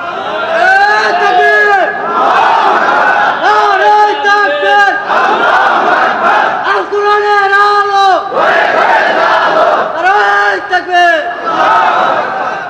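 A large crowd at a religious gathering shouts a takbir chant in unison, repeating the call in several loud, rhythmic waves separated by short pauses.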